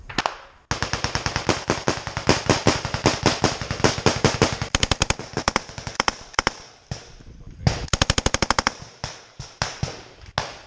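Machine gun fire in trench combat on the Ukrainian front line rattles out in repeated loud bursts of rapid shots, close by, with pauses between volleys and voices talking in between.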